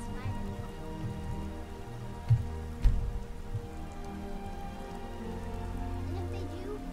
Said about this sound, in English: Wow, and it's raining.